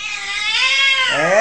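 A house cat meows repeatedly and loudly close by, its long, wavering, rising-and-falling cries running through the whole moment without pause.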